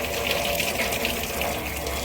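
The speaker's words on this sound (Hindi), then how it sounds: "ये है ये पाइप, पूरा प्रेशर से जाता है भाई पानी।" Water gushes under pressure from a roof drain pipe and falls onto a lower roof, a loud, constant, hissing rush with no talk.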